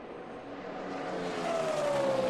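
A NASCAR stock car at the 2008 Auto Club 500 at Fontana, running near 200 mph: a loud, rising engine roar that swells as the car approaches, its whining pitch climbing steadily, with no voices.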